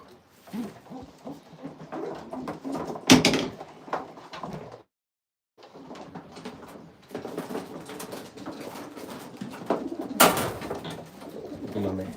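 Pigeons coo intermittently inside a loft where birds are kept for breeding, soft repeated calls with a couple of sharp knocks like a door or box shutting, and a brief silent gap midway.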